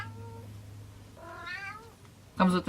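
A house cat meows loudly several times nearby, the long drawn-out calls rising and falling in pitch, with a final sharp, very loud yowl at the end.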